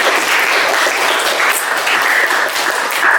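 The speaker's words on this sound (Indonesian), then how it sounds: "Oke, tepuk tangan untuk Atul." A classroom of students applauds a classmate, a dense, steady patter of many hands clapping close by for about three seconds with no talk over it.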